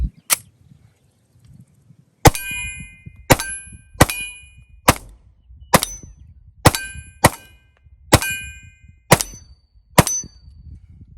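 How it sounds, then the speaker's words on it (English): A SCCY CPX-3 .380 ACP pistol fires about a dozen loud, sharp shots with ringing metallic clangs during a 100-round break-in, spaced roughly a second apart after one early shot, with no talking. "We're going to do the 100-round initial break-in of this pistol"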